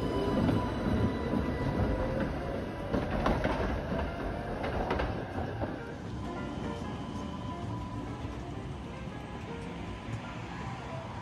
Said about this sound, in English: Both of these PCCs sound a lot like the Type 8s on the MBTA's Green Line.